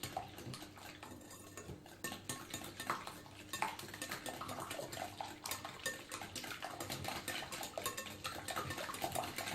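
Sugar being mixed with eggs in a bowl for a chocolate fondant, heard as continuous scraping and clinking of utensil against the bowl with a soft wet sloshing, moderately quiet and steady throughout.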